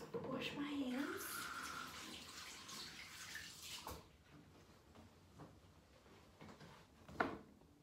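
Hands are washed under a running tap, giving a steady, quiet hiss of water for a few seconds. It then thins out into soft splashes and a knock, with a person talking.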